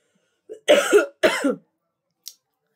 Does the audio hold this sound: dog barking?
no